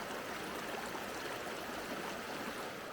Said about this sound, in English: This little stream had plenty of water in it, though.